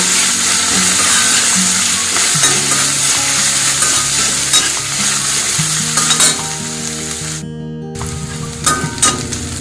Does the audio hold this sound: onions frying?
yes